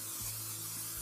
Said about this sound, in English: add our nonstick cooking spray